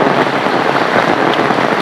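Rain pours steadily onto flooded village fields, a dense, even hiss with no breaks and no voices.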